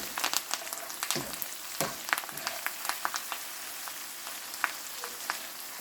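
Half a lemon cooking in hot oil, giving a soft, steady crackle and sizzle with irregular sharp pops, close and fairly faint, with no one talking.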